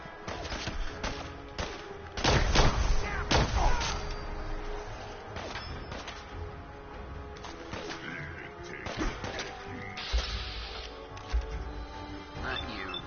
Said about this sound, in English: it lets him throw 3 grenades at a time